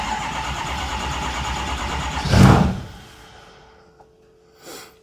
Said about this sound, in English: Now watch the percentage when I go to crank the truck